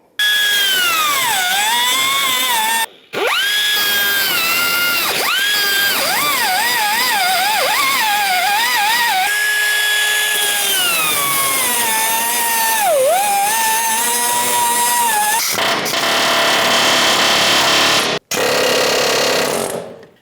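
Power drill grinding through the rivets of a 1992-1996 Ford F-150 frame at the rear shock mount bracket, a loud, close, continuous whine with shifting pitch, broken by a few short pauses and restarts.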